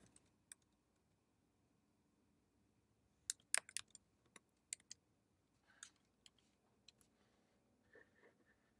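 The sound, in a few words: typing on a computer keyboard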